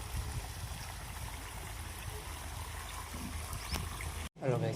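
Water from an irrigation channel runs into a farm field with a steady trickling, gurgling flow close by, which cuts off abruptly near the end, where a brief voice is heard.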